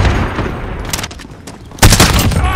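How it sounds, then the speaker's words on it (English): Cluster strike explosions in Call of Duty: Modern Warfare (2019), a loud rapid burst of blasts and crackling impacts, a brief lull, then another heavy close boom. "Cluster strike incoming."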